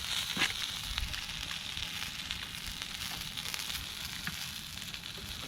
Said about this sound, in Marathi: खूप जोरामध्ये बांगडा पण आपला मस्त की फ्राय होतो कावलावरचा बांगडा